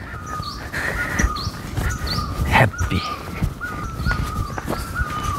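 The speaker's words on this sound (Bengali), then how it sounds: "পাখির ডাক শুনতে পাচ্ছেন আপনারা" Birds calling in a mountain forest at Murree, Pakistan: repeated clear whistled calls at a steady rhythm over outdoor ambience, with a brief spoken word and footsteps nearby.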